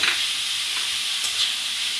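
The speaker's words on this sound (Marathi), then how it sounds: "ह्या सर्व भाज्या मीडियम फ्लेमवरती चांगल्या भाजून घ्यायच्या" Vegetables including carrot, cabbage, tomato and capsicum fry on a medium flame, giving a steady, even sizzle close by with faint stirring scrapes and no voices.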